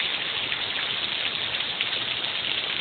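Steady rain from a storm in Chicago hisses down on a hard surface, a dense, even patter with no pauses.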